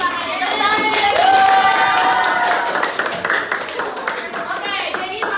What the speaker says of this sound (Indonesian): Excited dikit tepuk tangannya.